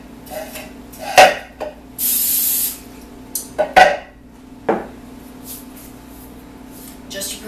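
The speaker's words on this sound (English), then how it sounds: "So, to prepare my bundt pan, I'm going to spray liberally." Non-stick cooking spray hisses into a bundt pan in one steady, close burst of a little under a second, surrounded by clinks and handling knocks of the pan.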